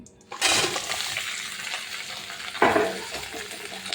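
Fried potatoes and fish dropped into a pan of crab curry, a sudden loud hiss that settles into steady sizzling, then a second burst of spattering as more goes in.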